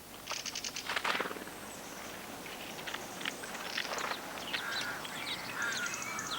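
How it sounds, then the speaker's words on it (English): Harsh rasping calls of a mistle thrush carry from a garden, a run of strident churring bursts repeated through the stretch with other faint bird notes and light rustling behind. "You often hear their distinctive rasping call"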